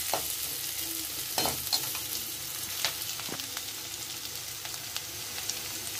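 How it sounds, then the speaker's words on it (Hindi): Ginger sautéing in a pan over a low gas flame, a soft continuous sizzle broken by several spoon scrapes and taps as it is stirred. "अदरक का कच्चापन निकल जाए, इतना बस हमें भूनना है"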